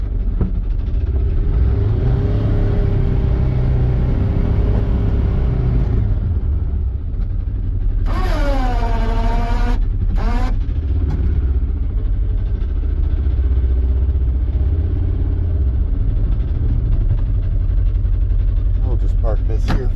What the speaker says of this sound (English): I'll let the skid steer warm up